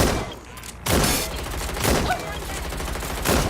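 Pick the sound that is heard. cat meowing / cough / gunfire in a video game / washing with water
gunfire in a video game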